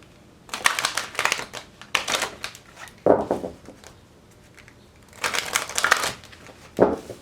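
Tarot cards being shuffled by hand in several bursts, each a crisp riffling flutter lasting about a second, with short pauses between them and no talking.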